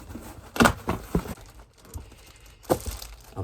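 Crinkly plastic packaging of a microphone being cut with kids' scissors and handled up close, with a couple of sharp snipping bursts and rustling between them.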